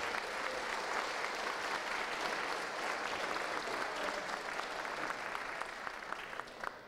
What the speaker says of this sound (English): We'll give him a clap.